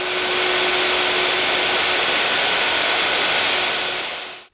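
A router plunge-cuts with a down-cut bit and a 5/16 inch guide bushing, working a veneered apron for a floating hall table. It gives a loud, close, steady high whine with a broad rushing roar that cuts off abruptly at the end.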